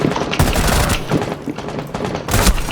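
Gunfire in Rainbow Six during a Team Deathmatch round, dense bursts of automatic fire and rapid shots rattling continuously, with louder volleys near the start and end.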